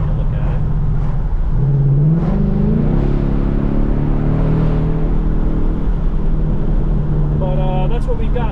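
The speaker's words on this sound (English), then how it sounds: "I'm hearing popping and crackling coming from the back, but I'm no longer really hearing noise from the front." A 2022 Ford Mustang GT with its sound tube deleted rumbles steadily at close range, with a few sharp exhaust pops and crackles over a low engine drone and some faint voices.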